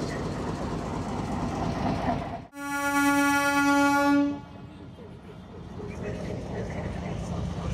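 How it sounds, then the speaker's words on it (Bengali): A Narayanganj Commuter train at Gandaria station in Bangladesh sounds a loud, sustained horn blast of about two seconds amid rumbling rail noise as it departs, with the track din continuing afterward. "তো এখন গ্যান্ডারিয়া রেল স্টেশনের প্রবেশের অনুমতি দিয়ে দিয়েছে, তো ট্রেনটি ছেড়ে দিল।"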